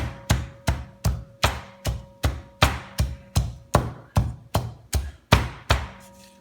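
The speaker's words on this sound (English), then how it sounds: "we smash this lemongrass so the natural juice will come out" Lemongrass stalks for chicken inasal are smashed in a steady series of about fourteen sharp, evenly spaced thuds on a board, loud and close, with no talk.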